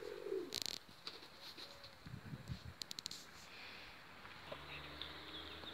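Pigeons coo softly in a backyard coop, low repeated calls with light rustling and a few sharp chirps, fairly quiet and close, no talking.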